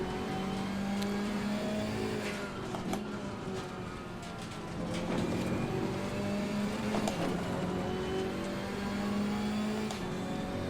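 A GT4 race car engine in the Assetto Corsa Competizione racing game revs and pulls through gear changes, rising and falling repeatedly at moderate, fairly quiet level with no talk.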